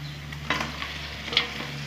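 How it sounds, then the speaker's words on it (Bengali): Pre-fried chicken is tipped into red masala in a pan and stirred, giving a soft sizzle with two clear scraping stir strokes close by over a low background hum. "এখন চিকেনটা যে ভেজে রেখেছিলাম দিয়ে দেবো।"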